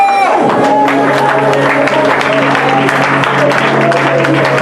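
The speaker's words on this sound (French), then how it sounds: "nous sommes exaucés, au nom de Jésus-Christ, avec acclamons le Seigneur." At a church inauguration service, the congregation bursts into sustained, loud applause and cheering, with a sustained musical tone and voices mixed in.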